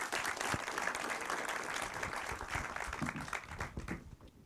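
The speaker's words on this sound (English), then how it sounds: "So give them all a healthy round of applause" An audience at a Disney lecture gives steady, moderately loud applause that continues for several seconds before fading.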